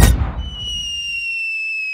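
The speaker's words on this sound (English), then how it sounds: "Right, let's fire the cannon." A cartoon cannon fires with a sudden loud boom that fades out, followed by a steady high whistling tone as the shot flies off.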